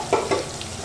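Turmeric spice paste frying with potatoes in a pan for a Bengali vegetarian kofta, a brief close sizzle with two quick scraping stirs.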